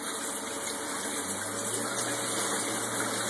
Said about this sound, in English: You can hear the pump, water pump pick up when you put it on the bigger setting.